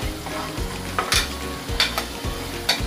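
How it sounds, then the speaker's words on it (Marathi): Onion with ginger-garlic paste and salt frying in a pressure cooker, a steady soft sizzle broken by several sharp scraping strokes of a spoon stirring against the metal, close and clear. "आपला कांदा व्यवस्थित भाजतो मीठ टाकल्यावर"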